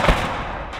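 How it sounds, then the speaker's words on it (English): Heavy autocannon fire from the WWII game Gates of Hell with the Gates of Steel mod, a loud close burst opening sharply and then rolling into a sustained rumbling wash of battlefield gunfire, with no voices. "I don't know if that's our auto cannon or theirs"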